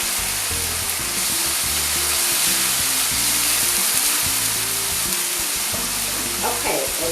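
Tomato puree and green chilies hit hot oil with browned onions, giving a loud, steady sizzle and crackle with soft stirring scrapes throughout, close up and without talk.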